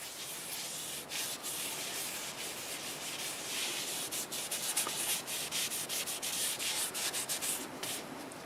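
Steady rubbing of shellac-based sanding sealer over a turned silver maple piece, a continuous dry, brushy friction with faint rhythmic strokes, close and alone.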